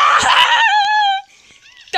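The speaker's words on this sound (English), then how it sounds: "These ants like always scream for no reason." Cartoon ants from Happy Tree Friends let out a loud, high, wavering scream that slides downward and fades, cut short by a brief stretch of near silence.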